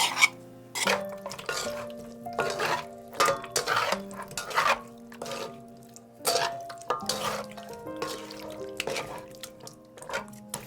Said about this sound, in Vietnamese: Kế đến mình cho thịt vào ướp luôn trong chảo nè